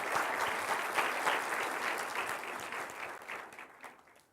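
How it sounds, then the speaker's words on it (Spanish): A church congregation bursts into sustained applause during a service, many hands clapping in a dense, even wash that gradually tapers off. "Vamos a darle un aplauso al Rey de Reyes y Señor de Señores,"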